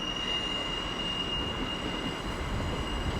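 A train rolls into Manchester Piccadilly station with a steady rumble, high-pitched wheel squeal and rail noise at moderate distance, continuous throughout with no talking.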